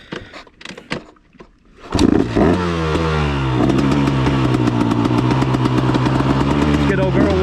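A dirt bike engine fires up after about two seconds of brief talk, then runs loud and close in a steady warm-up idle with a rough, throbbing beat.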